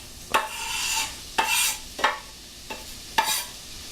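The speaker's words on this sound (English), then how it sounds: "we can hear it actually sizzling" Steady crackling sizzle of onions frying in hot olive oil, broken by several louder scraping bursts as they get stirred.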